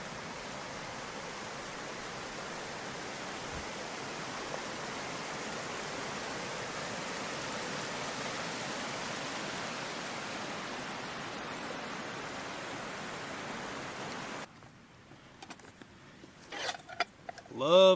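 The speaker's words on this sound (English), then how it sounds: "We've got a beautiful little waterfall here." Steady broadband rush of a small mountain-stream waterfall, constant and fairly close for most of the stretch, then cutting away to quieter sounds near the end.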